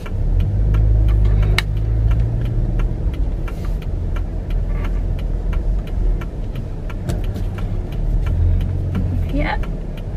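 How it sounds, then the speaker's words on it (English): A car's engine hums at low revs as it backs slowly into a home driveway, a steady close rumble with a few faint clicks and bumps, while a person talks over it. "I'm getting ready to back into my driveway."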